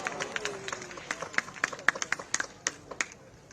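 Scattered, irregular handclaps from an audience at a temple and school inauguration ceremony, sparse and fairly faint, with sharp individual claps rather than a full ovation, and a low murmur of voices behind.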